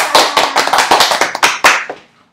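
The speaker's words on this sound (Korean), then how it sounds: "네, 박수." A small group claps hands in a short, close burst of quick, uneven claps lasting about two seconds, then stops abruptly, during a real estate auction study group gathering.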